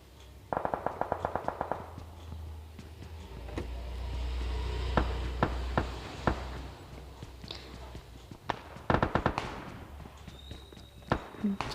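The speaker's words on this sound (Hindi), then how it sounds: "फायरिंग बहुत आ रही है" Two bursts of rapid automatic gunfire ring out in the mobile shooter BGMI, one near the start and one later. Between them, a low vehicle-like rumble and scattered footstep taps fill the quieter stretch.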